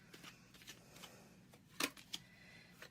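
Tarot cards being shuffled close by, a quiet run of soft riffling flicks ending in a couple of sharper snaps of card against card.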